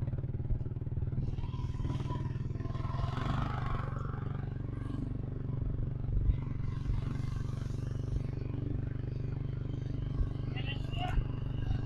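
A Yamaha RXZ motorcycle rides outside a house with a family aboard, its engine a steady low drone throughout, with faint clatter and occasional soft thumps while voices talk over it.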